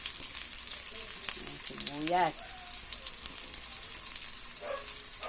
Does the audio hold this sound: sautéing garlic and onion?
yes